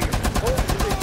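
Rapid turret gunfire in Rainbow Six Siege, an outbreak-mission match, with a regular stream of close, loud shots rattling throughout under faint voices.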